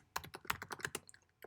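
A rapid flurry of keystrokes on a computer keyboard, about a dozen crisp clicks in quick succession, close but fairly soft, with no voices.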